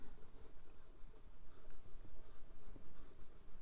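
A 1950 Waterman Taperite fountain pen nib glides over paper with no added pressure, giving a faint, continuous scratchy rustle of looping strokes, close and quiet, with no voices.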